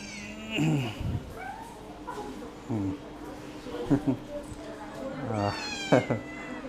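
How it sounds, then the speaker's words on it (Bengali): A black cat meows several times close by, drawn-out, wavering cries spaced a second or so apart. "এই যে এখানে একটা বিড়াল আমরা দেখতে পাচ্ছি"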